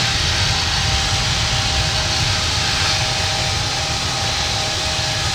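Boeing 777-200ER jet engines at takeoff thrust in Infinite Flight, a loud, steady broadband roar with a faint whine running through it, unbroken for several seconds.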